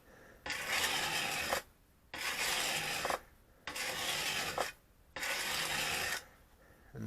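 Wood chisel sharpened freehand on coarse grit: four long, even rasping strokes, each about a second and a half, separated by short quiet pauses, loud and close with no voices.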